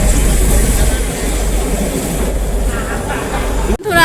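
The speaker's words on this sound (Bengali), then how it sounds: "এতবার দেখেছি বাতাসিয়া লুপে এই টয় ট্রেন" Darjeeling toy train at Batasia Loop rumbling steadily and close, a continuous low mechanical roar that ends in a brief sharp drop near the end.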